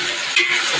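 Okra sizzles in a hot pan with a bright, continuous hiss, close and fairly loud, and a brief stirring scrape partway through.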